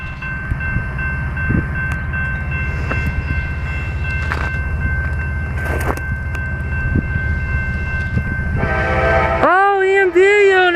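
A Norfolk Southern eastbound mixed freight train rumbles steadily past in Fostoria, Ohio, led by an EMD unit, then its horn blares loud and close near the end.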